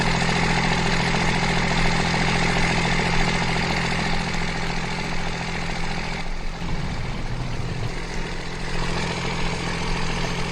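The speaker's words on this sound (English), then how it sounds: "But the motor will like barely run and start." The motor of a salvaged Ram T-Rex, steady loud engine running with a constant droning hum and rough vibration, briefly dipping and sputtering midway before carrying on, no voices.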